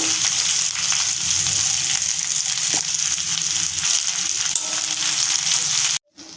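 Drumstick leaves sauté in a spoonful of hot oil, giving a steady, close, continuous sizzle that cuts off sharply near the end.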